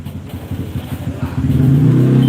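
Motorcycles rev loudly on a nearby street, a throbbing, pulsing engine drone that swells and grows steadier as they pass close by.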